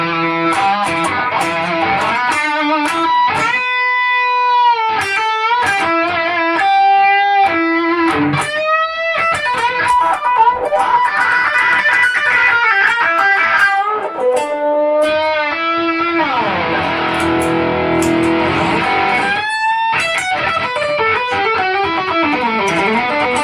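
Electric guitar played through a cheap Marshall amp with a Klon overdrive pedal, loud and close, with bent sustained notes and distorted chords in bursts, no talking.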